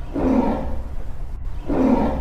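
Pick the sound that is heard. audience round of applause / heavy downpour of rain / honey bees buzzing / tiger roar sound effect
tiger roar sound effect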